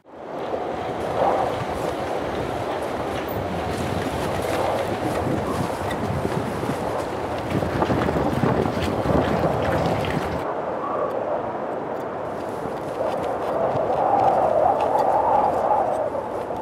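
Stormy wind and rough waves batter a sailing yacht on the Baltic Sea, a continuous loud rushing roar of gusts and sloshing water that briefly eases before surging again.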